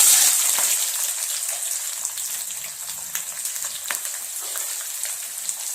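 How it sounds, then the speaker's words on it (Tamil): Small shallots dropped into hot oil for an onion tomato kara chutney, a bright hissing sizzle that starts strong and settles into a steady crackle with scattered pops, close and alone. "இப்போ சின்ன வெங்காயத்தை சேர்த்துக்கோங்க."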